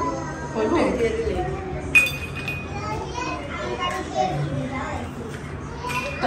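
Drinking glasses clink brightly a couple of times while children chatter and play close by.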